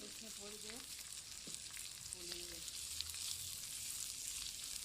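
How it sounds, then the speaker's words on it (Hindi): Onions fry in a pan with a steady soft sizzle and faint stirring, heard close but fairly quiet, while a voice briefly sounds early on. "प्याज को भी हम अच्छी तरह फ्राई करेंगे।"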